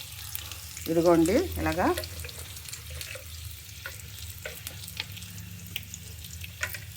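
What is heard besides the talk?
onions frying and being stirred in a pan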